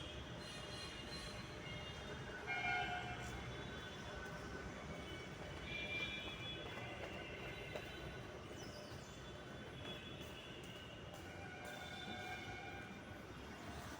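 A metro train rumbles steadily at Kolkata Airport station, wheels squealing and rails clattering in a continuous, close-up roar that lasts throughout, with faint tonal whines above it.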